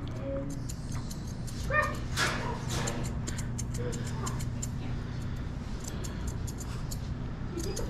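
A dog in a grooming video game whimpers and lets out several sharp yips, scattered bursts over a steady background hum, fairly close and clear, with a person speaking faintly at times.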